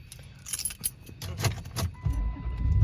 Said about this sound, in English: Where are my keys?